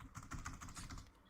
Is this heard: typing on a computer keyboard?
yes